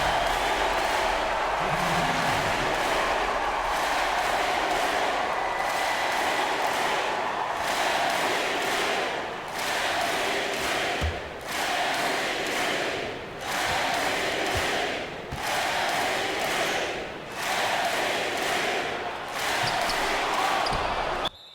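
Crowd noise from an NBA 2K19 basketball video game, a steady roar of cheering that holds throughout, with rhythmic swells and thuds like a ball bouncing on the court.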